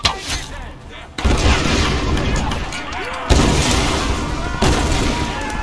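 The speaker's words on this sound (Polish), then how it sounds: "Wszystko wybuchło." Dense bursts of gunfire and explosions from the video game Tomb Raider roar continuously, loud and close, with heavy booming onsets recurring every second or so.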